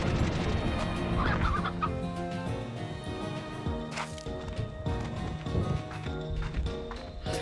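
A bird clucks repeatedly in the video game Slime Rancher 2, mixed with busy game sound effects and background music, with sharp bursts scattered through the clip.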